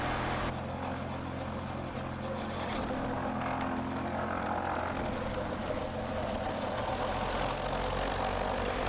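A small propeller plane's engine drones steadily throughout, a continuous loud hum with a low rumble and no pauses, heard close by without talk.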